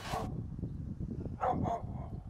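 A dog at Moose Factory gives two short barks in quick succession at a moderate distance, set against a steady outdoor background.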